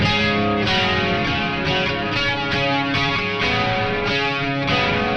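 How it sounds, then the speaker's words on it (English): Electric guitar chords strummed steadily through a lush, shimmering tri-chorus effect on a Joyo Vision pedal, giving a wide, warbling, distinctly eighties sheen. "So like really 80s sounding chorus."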